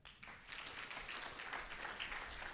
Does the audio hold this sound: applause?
yes